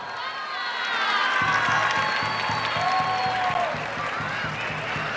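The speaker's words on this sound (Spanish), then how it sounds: "Fuerte el aplauso." Applause from a crowd at the proclamation ceremony for the Burgos festival queens: a broad, sustained wash of clapping that swells early and then holds steady, with a few cheers and whistles above it and no talk.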